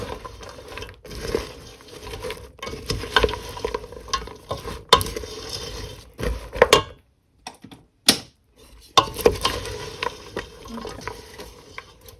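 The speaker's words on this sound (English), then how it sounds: "And we keep on mixing everything like this." Struffoli dough is worked together with candied fruit, citrus and orange peel by hand, giving close, irregular sticky squelches, pats and scrapes with brief pauses in between.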